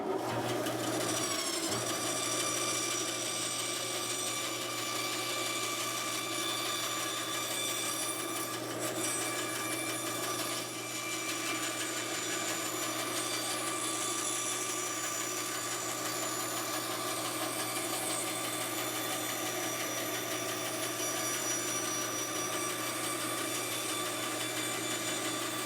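A loud, continuous machine drone hums steadily throughout, with a bandsaw's sustained whir as it trims a wooden guitar neck and no pauses.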